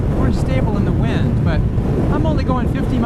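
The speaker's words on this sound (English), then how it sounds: "the wind's blowing today" Wind roars over a sportbike rider at about 50 mph, a dense constant buffeting rush close to the microphone, with voice-like fragments faintly mixed in.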